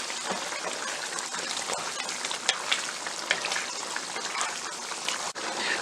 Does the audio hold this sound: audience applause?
no